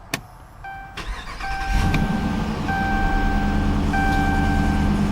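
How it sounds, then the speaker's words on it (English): A 2012 Dodge Durango R/T AWD starts by push button: a click and a chime tone, then the engine cranks and catches, settling into a steady, close idle while a repeating warning chime sounds over it. "simply hit the engine start button to start the engine"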